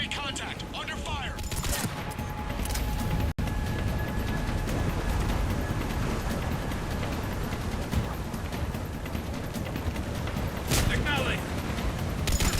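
Sustained gunfire in a Mass Effect 3 combat scene, dense rapid bursts of shots continuing almost without pause over a loud battle din.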